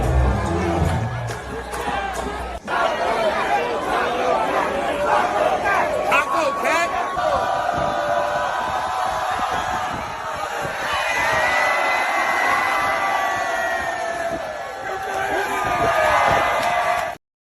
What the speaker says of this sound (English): And the crowd is into this for some reason.